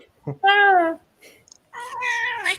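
A house cat meows twice during a live Disney-themed movie discussion, a long drawn-out call followed by a second rising meow, close and clear with a voice talking between them.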